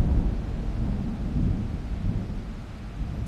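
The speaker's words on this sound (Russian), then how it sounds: "Да у меня там дождь валит вообще жестко." Heavy rain pours outside with deep rolling thunder, a dense low rumble and steady wash of noise that holds at a fairly loud level throughout, with no voices.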